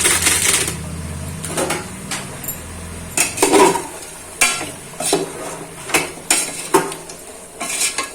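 A spoon stirs and scrapes an egg and chicken curry in a metal pot, making repeated sharp clinks and scrapes in an irregular rhythm over a faint sizzle, close and fairly loud.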